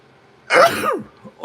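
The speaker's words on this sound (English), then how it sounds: "so I don't know why I'm sneezing." A single sharp, explosive sneeze bursts out close to the mic after a brief silence, followed by a shorter, softer noise.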